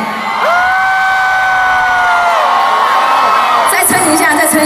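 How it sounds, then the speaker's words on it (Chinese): A campus anniversary concert crowd at Chihlee college erupts in loud, sustained whoops, screams and cheering close by, with long shrill cries held over the din for several seconds. "喝水的时候，一个专业的歌手必须要有掌声加尖叫"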